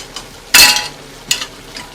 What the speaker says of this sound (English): So I'm gonna add the rice to this mixture.